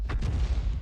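A G.Pz.Mk.VI(e) self-propelled artillery piece in a video game fires a round: a short, heavy boom with a sharp crack at the start and a brief rumbling decay, close and loud.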